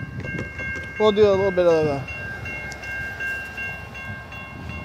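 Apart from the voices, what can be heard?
Norfolk Southern freight train passing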